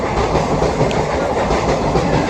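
The Tebhaga Express, running between Kolkata and Balurghat, rolls past a station with a loud, continuous rumble and rhythmic clickety-clack of wheels over rail joints, close by.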